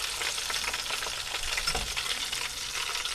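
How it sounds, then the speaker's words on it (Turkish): Oil sizzles and crackles steadily in a pan as zucchini fries, a close, continuous frying hiss with a brief soft stir near the middle. "kızartma yapıyorum bu şekilde."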